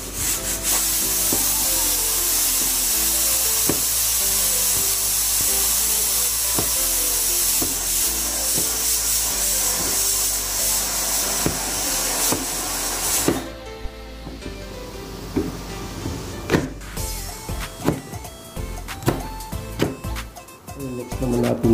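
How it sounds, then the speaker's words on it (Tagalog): Okra boiling in a pot of beef sinigang, a continuous bubbling, hissing simmer that cuts off partway, followed by scattered clinks and knocks. "Kumukulo na yung okra."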